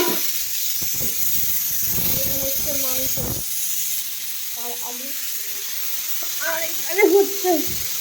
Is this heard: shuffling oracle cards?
no